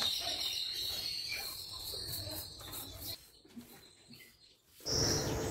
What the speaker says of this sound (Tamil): பேக்ரவுண்டில் பாருங்கள் அவ்வளோ குருவிகள் சத்தம்